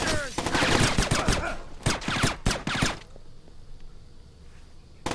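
Gunfire in the stealth game Splinter Cell Chaos Theory on PC, loud dense bursts of rapid shots in quick volleys for about three seconds, then a quiet stretch with faint background sounds.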